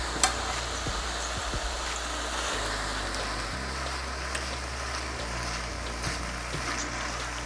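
Tofu goes into an oil-free pan for a vegan scramble and is stirred, giving a soft, steady sizzle with faint scraping and light knocks throughout, fairly quiet.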